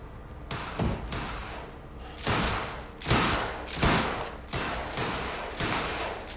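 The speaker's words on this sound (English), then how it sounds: "I gotta check out that gunfire before I go anywhere else" Rapid bursts of video game gunfire in Quantum Break crack repeatedly in an uneven rhythm, loud and reverberant, with no talking.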